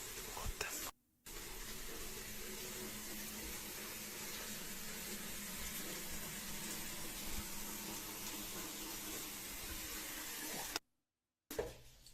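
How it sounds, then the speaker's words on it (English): Water runs steadily from a sink faucet in a home at night, a constant faint hiss that cuts out briefly near the start and again near the end. "Oh, it turned the sink on. The sink water."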